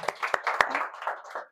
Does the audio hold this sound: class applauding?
yes